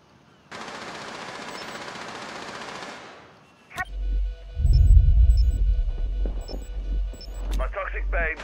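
Rainbow Six Siege gunfire punches through a wall on the Favela map: a loud burst of rapid automatic fire, then heavy thumping impacts and shorter shots, with people talking over it.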